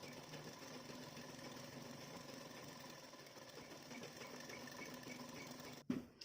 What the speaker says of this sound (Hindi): उसके बाद देखिए, नीचे की तरफ सिलाई लगा देंगे और इसको पलट कर तैयार कर लेना है।